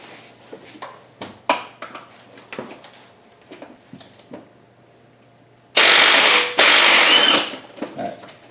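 A ratchet clicking on a bolt during an in-place KA24DE engine rebuild, close, with short bursts of ratcheting and metal taps, then two loud blasts of pneumatic impact wrench.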